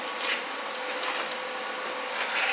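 Tack welding a clamp onto a side-by-side handle crackles and hisses as a steady, close buzz with bright sputtering bursts, heard alone without talk.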